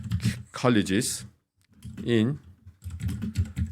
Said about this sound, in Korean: 키보드 소리가 좀 클 텐데 양해 부탁드리겠습니다.